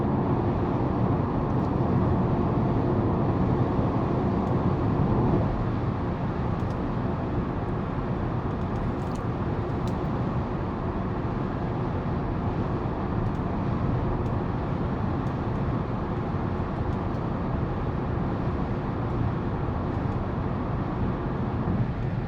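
A 2023 Kia Sportage Hybrid EX AWD cruises at highway speed, heard from inside as a steady, broad roar of road and wind noise with no change throughout.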